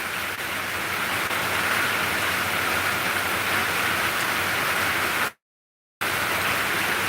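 Steady, dense rain hisses evenly, broken by a sudden brief dropout of total silence before resuming.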